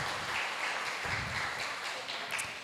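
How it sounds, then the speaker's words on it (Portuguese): A church congregation at a worship service applauds, a dense, even wash of clapping that sounds moderately distant and continues without a break. "Pode aplaudir pela vida da adolescente, em nome de Jesus."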